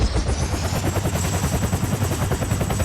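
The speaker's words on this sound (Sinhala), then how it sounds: "හරියන්නේ හෙලිකොප්ටර් එකට නැගිටින" A helicopter in a Roblox prison escape obby game drones steadily, with loud, continuous rotor chopping and a low rumble filling the whole stretch with no talk.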